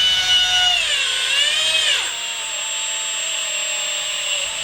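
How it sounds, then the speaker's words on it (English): A power drill whines through wood while boring bolt holes for bench vise soft jaws, its pitch dipping under load and then steadying, close and continuous with no voices. "we are going to carefully drill through"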